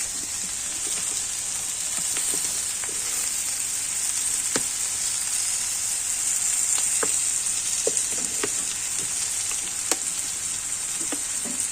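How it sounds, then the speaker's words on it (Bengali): Food fries in a pan with a steady high hiss as chili sauce and soy sauce are stirred in, while scattered clicks and scrapes of a spatula stand out near and clear, with no talking. "চিলি সসটা দিয়ে একটু নাড়িয়ে নেব সয়া সস দিয়ে এটা আমি ভালো করে নাড়িয়ে নেব"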